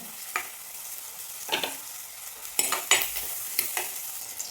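Shallots and ginger sauté in a pan for a shark fish curry, with a quiet steady sizzle broken by several sharp scrapes of a spoon stirring against the metal.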